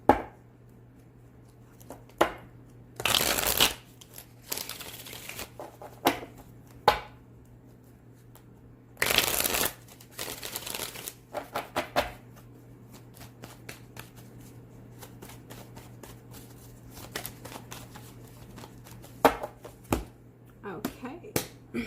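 Tarot cards are shuffled in several brisk riffling bursts with quiet gaps between them. The shuffling is close, and a low steady hum runs underneath.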